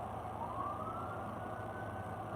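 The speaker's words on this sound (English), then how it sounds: "Hello, police sirens." A police siren wails at a distance, one long rising tone drifting slowly upward over a low rumble of traffic or engine noise, steady and unbroken with no voices.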